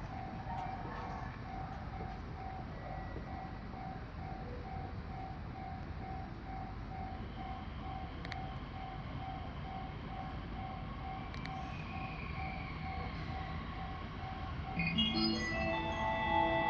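An E501 series train pulls into the platform at Tsuchiura station in Japan, with a steady rumbling roll and a repeating platform chime overhead, growing louder toward the end.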